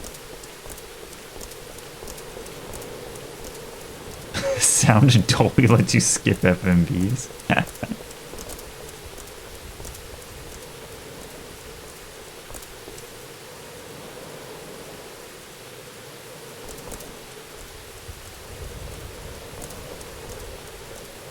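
Steady, hissing rainfall fills a scene in the video game Shadow Hearts: Covenant, continuing as an even wash throughout, briefly overlaid by a spoken voice and a louder burst of sound early on.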